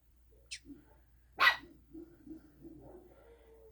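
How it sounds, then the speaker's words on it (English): Puppies barking indoors, one sharp loud yelp followed by a few softer whimpering yips and low whines, slightly distant in a quiet room. "And I apologize if you hear my dogs."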